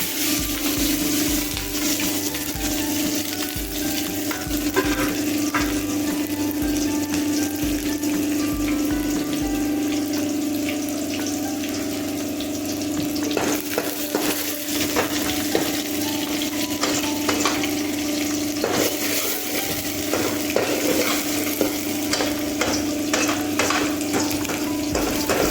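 Chopped onions frying in hot oil with mustard seeds and fenugreek, a steady close sizzle running throughout, broken by scraping and clinking as a spoon stirs the pan.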